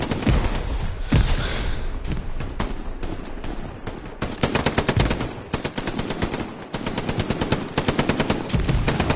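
Rapid machine gun bursts rattle through a military video game firefight, long loud sustained volleys broken by brief pauses and scattered single gunshots, with battlefield noise throughout.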